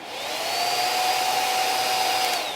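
A Head Kandy hair dryer runs steadily and close for a couple of seconds, a smooth whooshing airflow with a faint motor whine and no voices.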